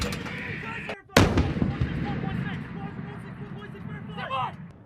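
A U.S. Marines artillery piece firing in training, one sudden heavy boom after a brief hush, followed by a long rolling echo, with shouted commands and voices around it.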